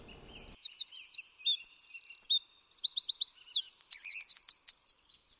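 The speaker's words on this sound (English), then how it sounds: "The diminutive wren makes a lot of noise for his size" A wren sings alone: a long, rapid series of high, bright trills and chirps delivered in fast bursts, loud and close, with no other sounds.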